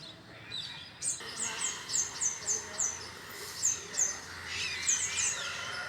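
Repeated high bird calls, a steady series of short chirps or whistles roughly every half second over faint outdoor background, moderately near and clear, with no talk.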